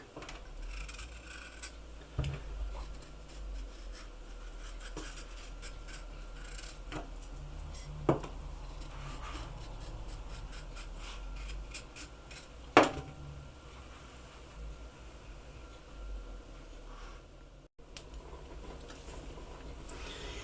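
Dried zucchini being peeled and chopped by hand, with soft scraping and rubbing strokes broken by a few sharper knife taps at a steady, unhurried pace, close by, with no voices.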